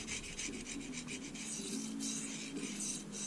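A knife blade scrubbed back and forth on a DMT 325 diamond sharpening stone, a steady close rasping rub with rhythmic strokes throughout, no voices.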